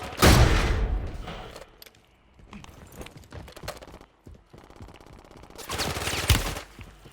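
Gunfire in a Warzone battle royale match, a loud opening volley then scattered sharp shots and rattling bursts of varying distance, closing with another heavy burst.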